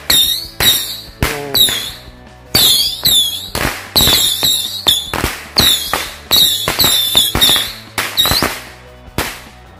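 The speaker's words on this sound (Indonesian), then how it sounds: "kita nyalain mercon Patriot Missile 25 shot" A Patriot Missile 25-shot firecracker set off inside a drink can fires a rapid series of loud, sharp cracking bangs, each followed by crackle and whistle, going on for about ten seconds with brief gaps between bursts.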